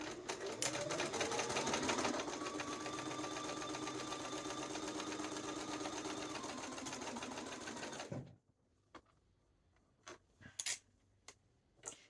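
A sewing machine stitches patch pockets on a duster coat, running steadily and closely for about eight seconds before stopping. A few faint clicks and handling knocks follow in the quiet.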